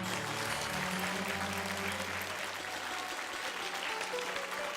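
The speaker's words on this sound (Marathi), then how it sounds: "टाळ्या." Audience applause in an indoor gathering during a Marathi TV serial scene, dense steady clapping filling the clip at an even level with no talk over it.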